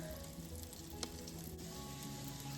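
Perogies toasting in butter in a pan give a soft, steady sizzle with one faint click in the middle.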